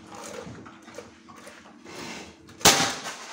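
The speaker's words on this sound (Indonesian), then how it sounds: "6 kali tembakan ya, teman-teman" A Predator Zombie air rifle fires a single sharp, loud crack close by, standing out against a quiet, muffled background.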